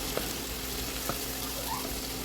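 Garlic and onion sautéing in a pan with a little oil and butter give a soft, steady sizzle with a few faint clicks and stirs, and no talking over it.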